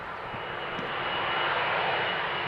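A KLM Airbus A330 jet airliner roars at Amsterdam Schiphol airport during runway departures, a loud, steady engine rumble that swells slightly.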